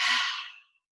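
A deep breath pushed out through the mouth during a morning yoga session, one strong breathy exhale that fades over about half a second and leaves silence, with no talking.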